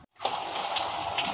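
Water starts gushing through a small drain pipe run out of a window at home after a brief moment of silence, then keeps flowing in a steady, fairly loud, hissing splash.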